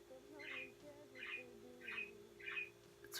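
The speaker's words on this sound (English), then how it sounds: "I'm so sorry you guys had to hear birds in the background this whole time." Four evenly spaced bird chirps sound faintly in the background over a low steady hum, with no voices present.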